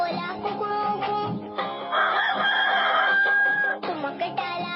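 A rooster crows loudly with a drawn-out, wavering call, set against the music of a children's song.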